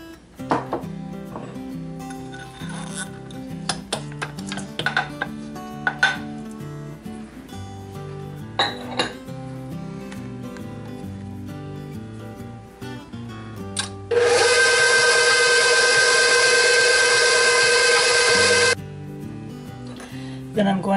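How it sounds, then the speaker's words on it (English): An electric mixer creams sugars with butter for Reese's Pieces nut cookie dough, a loud steady whir lasting several seconds after a stretch of clattering bowl and utensil noises and talk. "Then we're going to add our sugars and cream that with the butter."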